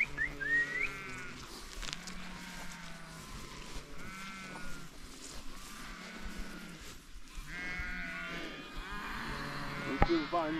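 A flock of sheep being moved from the fold to pasture in Romania bleats repeatedly at close and middle range, with people talking and whistling among the animals.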